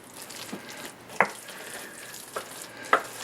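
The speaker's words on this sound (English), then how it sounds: "I'm just gonna stir it up" A spoon stirs a pot of chicken and dumplings, with a low simmering hiss and a few soft scrapes and knocks against the pot, close by and fairly quiet.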